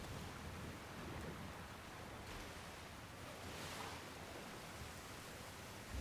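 Rain falls in a Pokemon video game, a soft, steady hiss of drops at low level with no other sounds.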